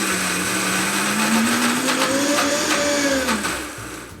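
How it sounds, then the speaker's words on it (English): A blender grinds dehydrated olive pits with a steady, loud, close whirring roar whose motor pitch slowly rises and dips before easing off near the end. "we're really just going to let these keep blending just until all the oil starts to come out."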